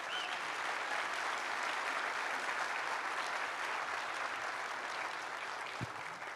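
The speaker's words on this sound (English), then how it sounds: "I think we need to give them a big round of applause." An audience at a summit event applauds in a full, sustained wash of clapping that holds steady and loud for several seconds without talk.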